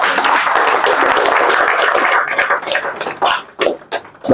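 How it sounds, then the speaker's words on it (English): An audience claps for a guest at a community coffee hangout, a loud burst of many hands that thins into scattered, uneven claps as it dies away. "Can we clap for him, please?"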